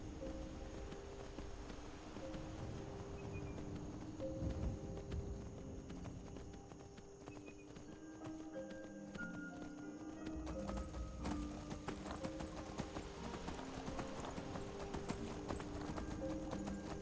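Shadowmere's hooves clip-clop at a steady walking rhythm across Skyrim terrain, clear and close throughout, with a horse whinny and soft ambient game music behind.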